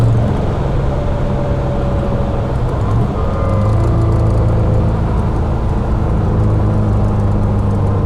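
A 1972 Jaguar E-Type 2+2 coupe's V12 engine hums steadily while driving, a loud continuous low drone with road and wind rush and gentle shifts in pitch.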